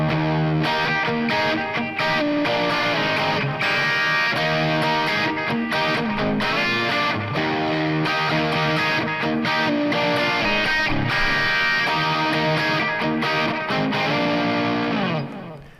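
Electric guitar played without a Fernandes sustainer, a dense distorted tone with chorus-like effects ringing steadily and loudly for the whole stretch, notes held but gradually fading.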